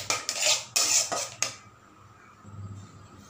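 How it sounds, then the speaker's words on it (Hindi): A spoon scrapes and clinks against a pan while melted sugar is stirred for caramel popcorn, a few quick metallic scrapes close up, then a quiet pause and faint low sizzling. "ये देखिए, इसे लगातार चलाते हुए हमें पकाना है। ये चीनी हमारी पूरी तरह से मेल्ट हो चुकी है।"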